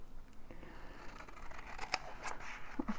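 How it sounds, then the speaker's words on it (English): Scissors snip through paper while a junk journal cover is made, a quick run of crisp cutting clicks close by with faint rustling and no talk. "cut it with my scissors"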